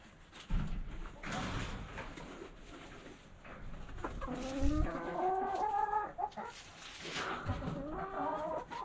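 Hens cluck and murmur inside a chicken coop, close and fairly quiet, with overlapping calls and a few louder squawks scattered through soft rustling.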